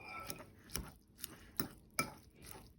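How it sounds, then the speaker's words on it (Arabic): Boiled, drained cauliflower being mashed by hand, five or six soft squishing presses with faint clinks against the bowl, close and fairly quiet with no talking. "وبعدين هبتدي اهرسه كده"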